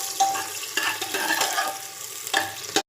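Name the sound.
onion frying in a pan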